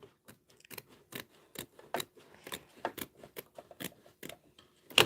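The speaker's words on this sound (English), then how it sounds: "Trim the fabric close to the stitch line." Scissors trim fabric close to a stitch line on a sewing project, making a series of crisp, close snips in an irregular rhythm, about a dozen cuts.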